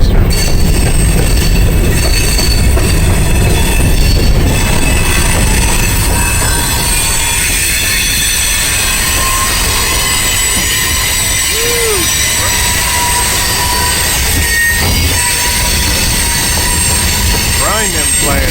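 A long freight train on the Indiana & Ohio line near Blanchester rumbles past close by, steel wheels squealing and grinding over the rails, with a person talking briefly beneath the steady roar.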